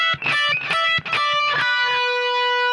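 Electric guitar playing a short phrase from the final solo of a song: a few quick picked notes, then one sustained bend ringing out alone.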